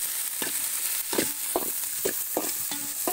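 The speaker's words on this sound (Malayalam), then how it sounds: "ഉള്ളി വതങ്ങിയിട്ടുണ്ട്" Onions sauté in a pan for a Palakkad-style ash gourd meat curry, with a soft continuous sizzle broken by about seven rhythmic scraping strokes of a spoon stirring close by.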